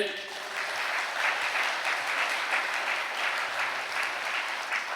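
A church congregation claps together during a Catholic priest's sermon, a sustained, fairly loud wash of rhythmic applause that swells slightly and holds steady throughout.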